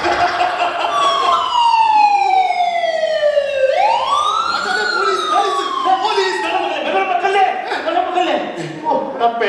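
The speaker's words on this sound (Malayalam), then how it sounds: "അത് പോലീസല്ല, അത് ആംബുലൻസ്." An ambulance siren wails in rising and falling sweeps, loud and close, over a steady bed of background noise throughout.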